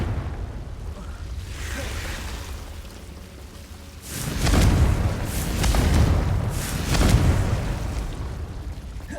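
Confringo blasting spells explode one after another in Hogwarts Legacy, a series of loud booming bursts with rumbling tails over a low ambient bed.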